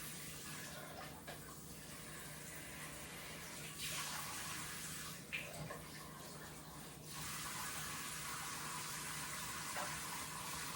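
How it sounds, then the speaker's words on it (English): Drained canned green beans are rinsed under a running kitchen tap, a steady, fairly quiet stream of water with brief surges of splashing. "I drain these green beans and I rinse them off to get some of the sodium off."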